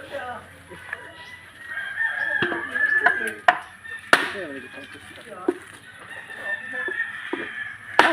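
A farmyard flock of chickens clucks continuously while a rooster crows, punctuated by sharp chopping knocks, with faint talk in the background.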